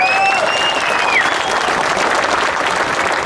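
Dense, steady applause from a rally crowd fills the whole stretch, loud and close, with a few whoops or whistles near the start.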